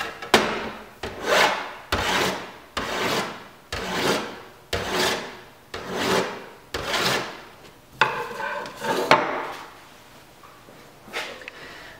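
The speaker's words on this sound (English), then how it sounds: "So we filed these edges down real nice so that they're 45-degree angle" A hand file rasps against the edges of a copper plate, cutting a 45-degree bevel in about ten steady, evenly spaced strokes that sound close and clear with no talking.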